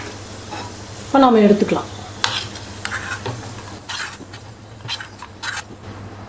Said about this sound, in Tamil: நெய் காஞ்சிருச்சு. திராட்சை முந்திரி போட்டுக்கலாம்.